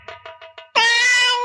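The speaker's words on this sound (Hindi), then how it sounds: "लाला ये बिल्ली क्यों रो रही है?" A cat cries out: four short, soft mews in quick succession, then one long, loud, drawn-out wail that holds steady until the end, close and unaccompanied.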